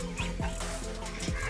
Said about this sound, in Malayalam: ഇതാണ് നമ്മുടെ പുതിയ കോഴികൾ